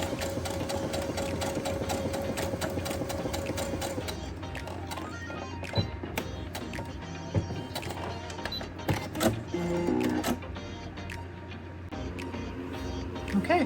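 A sewing machine stitching a zippered pouch runs in a steady, close, loud mechanical whir for about four seconds. It then breaks into short stops and starts, with clicks and handling noises, and nobody speaks.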